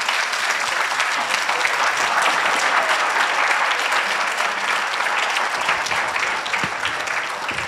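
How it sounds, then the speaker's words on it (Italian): Audience applause in Catania at the Premio Asimov 2019 event, a broad, continuous wash of many hands clapping at a constant level, thinning slightly toward the close. "facciamo anche a voi i nostri saluti, un bel applauso"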